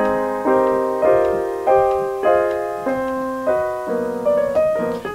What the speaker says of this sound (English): Locked hands technique means he's doubling the melody in his left hand like this.